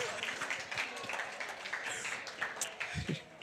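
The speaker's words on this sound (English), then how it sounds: "But man, give them a round of applause." Audience applause in a church gathering, a moderate burst of clapping mixed with cheers and chatter, fairly distant and lively throughout.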